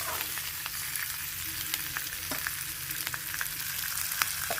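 Pork leg, cut into pieces, cooking in a pan, with a steady close sizzling hiss and bubbling that runs throughout, broken by a few soft stirring scrapes and taps, and no talking.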